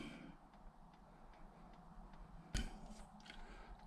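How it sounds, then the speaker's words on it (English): Dashboard clock of a Triumph TR7 ticking quietly at a steady rhythm inside the parked car with the ignition on, faint under low cabin hiss, with one sharp louder click partway through. "Clock's ticking away."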